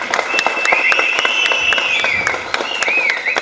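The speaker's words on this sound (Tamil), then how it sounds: "எல்லாரும் ஒரு கரகோஷம் கொடுத்து வரவேற்போம்" A crowd at a Tamil film audio launch applauds to welcome the film's director, steady loud clapping with a few sharper individual claps and a high whistling tone threading through the middle.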